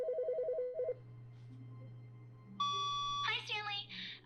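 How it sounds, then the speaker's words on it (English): An electronic telephone in The Stanley Parable video game rings in a quick burst of repeated double trills near the start, then stops. A steady low hum follows, with brighter electronic tones and beeps rising toward the end. "Can we answer the phone?"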